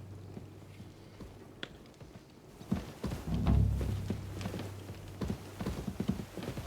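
Horse hooves clip-clop steadily at a walking pace in Kingdom Come Deliverance 2, close and moderately loud over a low outdoor background hum, with no talking.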